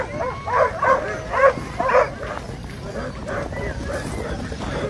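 Sled dogs staged before a race bark and whimper in short bursts, moderately close, over a constant outdoor rumble and the bustle of a crowded dog-truck area.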